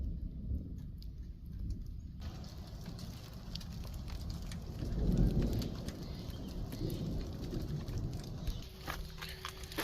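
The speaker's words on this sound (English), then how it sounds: "Second time this trip it's been raining with the sun out." Steady rain hissing outdoors at an Arizona lakeside campsite during monsoon season, falling while the sun is out, close and continuous, with a low rumble swelling briefly in the middle and faint bird calls behind.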